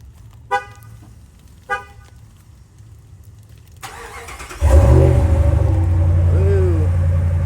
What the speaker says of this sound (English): I listen to the cold start today, man.